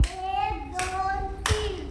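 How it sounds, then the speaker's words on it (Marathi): A child claps hands three times, sharp close slaps spaced evenly apart, with a soft adult voice lingering in the quiet between claps. "तीन टाळ्या वाजव बरं"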